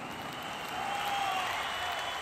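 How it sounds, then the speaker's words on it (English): Cheering crowds in Edinburgh welcoming Mary, Queen of Scots, a steady wash of applause and crowd noise that grows slightly louder partway through, with no voices standing out. "Mary, Queen of Scots, was welcomed into Edinburgh by cheering crowds"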